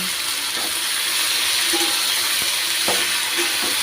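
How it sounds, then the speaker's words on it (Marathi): Fenugreek leaves are stirred into hot oil with fried chili and garlic in a pan, giving a continuous close sizzle and hiss broken by a few soft scrapes of the spoon. "आता मेथी टाकून घेतली, आपण मिक्स करून घेऊ."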